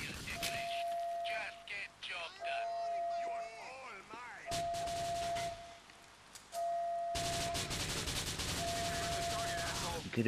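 Rapid bursts of gunfire from GTA IV: The Ballad of Gay Tony ring out loud and close in repeated volleys, broken by short gaps, with a voice talking between the shots.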